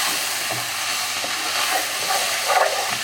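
Onions being stirred in a frying pan while cooking chicken curry, a continuous sizzle with soft scraping of the spoon and a few brighter clinks, near and steady, with no voices.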